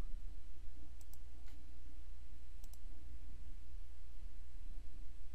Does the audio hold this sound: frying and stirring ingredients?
no